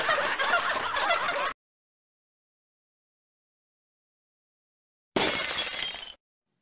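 A vase breaks in a loud burst of shattering material lasting about a second and a half, followed by silence, then a second shorter crash.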